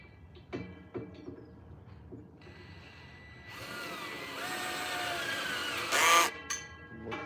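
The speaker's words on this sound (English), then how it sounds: "Shocking how fast that goes with the little drill." A few sharp knocks, then a small power drill whirs for a few seconds while setting a fence post, rising into a brief high-pitched burst before stopping.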